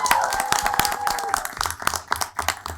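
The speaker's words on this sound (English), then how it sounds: "Can we get a round of applause?" Applause breaks out at a city council meeting: a crowd claps in a dense, uneven patter with sharp individual claps, fairly close, with a faint voice briefly underneath.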